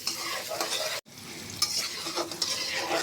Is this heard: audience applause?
no